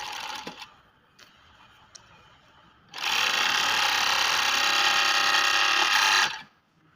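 An overlock sewing machine sits quiet with a few faint clicks, then runs for about three and a half seconds with a loud, steady, fast mechanical whir before stopping abruptly.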